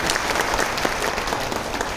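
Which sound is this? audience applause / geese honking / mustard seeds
audience applause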